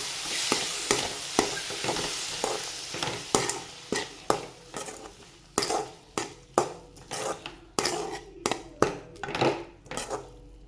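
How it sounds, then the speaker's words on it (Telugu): Tomatoes are stirred into a sizzling egg and dried prawn curry in a pan. A spatula scrapes and knocks against the pan in a regular rhythm of sharp strokes over a continuous frying hiss, close and fairly loud. "నెక్స్ట్ టమాటాలు యాడ్ చేస్తున్నానండి ఇంకో కలుపుకోండి"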